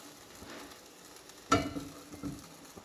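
Crappie fillets sear in a hot pan, a soft steady sizzle broken by a sharp, loud hiss as food meets the oil, with quieter stirring noises after.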